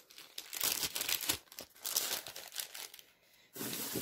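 Handmade New Year gift tags in plastic packets crinkle and rustle in bursts close by, with a short quieter pause before the crackling resumes.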